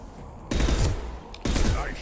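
Two loud bursts of gunfire in Mass Effect 2 Legendary Edition, each a rapid volley with a ringing tail, close and prominent over a quiet background.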